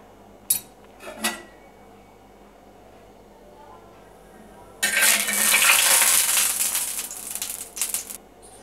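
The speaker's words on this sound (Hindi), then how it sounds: "गैस पे मैंने ये तवा रख दी हूँ, तवा गर्म हो चुका है, अब मैं इसमें थोड़ी सी रिफाइंड लगा रही हूँ" Refined oil spread onto a hot tawa griddle on a gas stove: a couple of sharp metal clinks, then a loud hissing sizzle that swells and holds for several seconds before trailing off.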